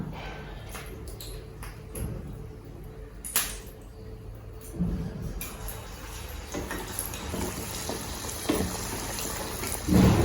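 Small Kerala-style onion vadas (ulli vada) crackle and sizzle in bubbling oil, a steady hiss with scattered louder pops and no voices.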